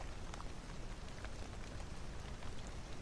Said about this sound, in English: It's the rain is making a crackling sound, but it's not crunchy, right?